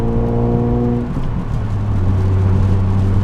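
A Nissan 370Z Nismo engine blips on a downshift with rev matching: a loud, steady tone drops in pitch at about one second, then settles into a smooth rising hum from inside the car.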